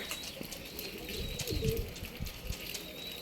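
Pigeons coo softly from a rooftop coop, low, rolling calls repeating a few times at a moderate distance over faint outdoor background noise.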